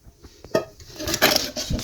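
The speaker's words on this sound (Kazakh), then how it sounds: "мұздарын шығарып алдық" Ice cubes are tipped out of a mug, giving a few close, light clinks and knocks against the mug that build into a brief clattering burst.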